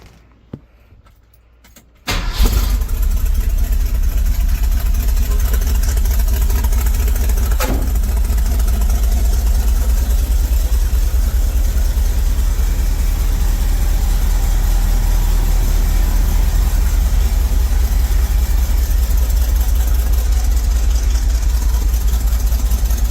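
A Ford 351M/400 V8 engine fitted with new headers idles loudly and steadily after a short quiet start, a deep rumbling exhaust note holding constant close by.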